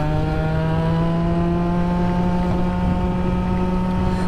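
A restricted Jetforce scooter engine runs steadily with a deep, throaty exhaust drone and strong harmonic hum, loud and close throughout.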